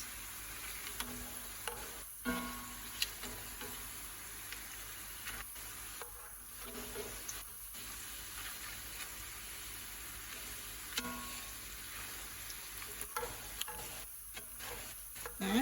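Tortilla pieces fry in a pan of hot oil for chilaquiles rojos, giving a steady crackling sizzle with scattered pops and brief dips, no voices.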